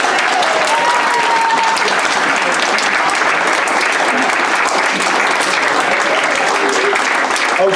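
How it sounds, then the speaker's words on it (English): Wedding guests applaud the bride, Isabel, at a reception: dense, sustained clapping fills the room without a break, steady and loud throughout. "let's have a big round of applause for our bride"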